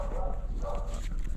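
A dog barks a couple of times on a porch, two short harmonic bursts close by over a steady low hum and background noise.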